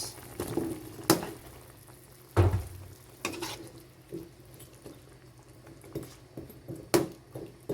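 Creamy chicken pastel simmers in a covered pot with a soft, quiet bubbling, punctuated by occasional sharp knocks and clinks of the lid and utensils at irregular intervals.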